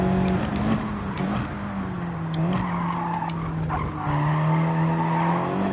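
Tyres skid and squeal as a car is pushed through a chicane in the racing video game Gran Turismo 7, a steady loud screech with a droning engine tone running underneath for the whole stretch.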